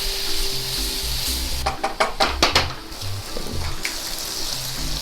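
Steady sizzling and frying of soy sauce and sugar caramelizing in a hot pan, with a brief burst of clattering utensil scrapes in the middle, continuous and fairly close.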